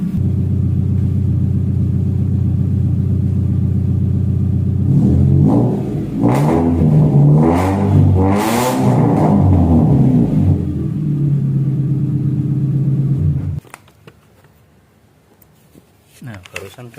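A 1994 Toyota Great Corolla engine idles steadily, then is revved in several rising and falling bursts, loud and close, before shutting off into near silence with faint sounds at the end.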